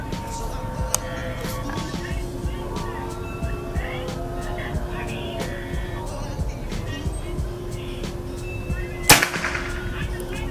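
A single sharp PCP air rifle shot, a Predator 500cc with folding stock, cracks out near the end, loud and close, over a steady low background hum with faint scattered clicks.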